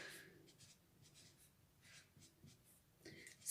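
Chalk scratching across a classroom board during a fourth-grade math lesson, a series of short, faint strokes in uneven rhythm with quiet pauses between them.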